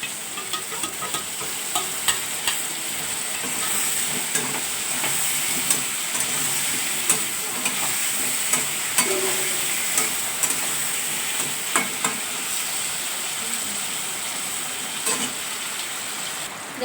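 Meat fries with added spices and pumpkin and potato in a pan, giving a continuous dense hissing sizzle and steady, irregular clicks of a spatula stirring, close and without voices.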